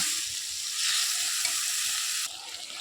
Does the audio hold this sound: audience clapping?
no